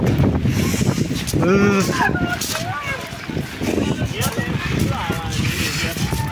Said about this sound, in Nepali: ए के हावा चलेको यार यस्तो छ